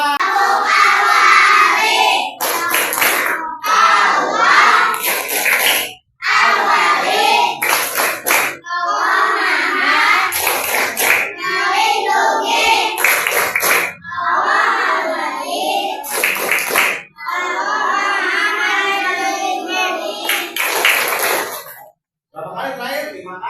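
Children performing the Tepuk Al-Wali clapping chant in a classroom, bursts of sharp rhythmic group hand claps punctuating loud chanted singing voices, repeating in short patterned phrases.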